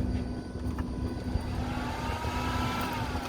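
A Renault 5 engine with blocked jets and a tight throttle linkage runs steadily after starting, a continuous low rumble with a sustained hum that stays loud and unbroken throughout.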